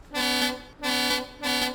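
A loud truck horn in a video game honks three times in a steady rhythm, each blast lasting about half a second with short gaps between.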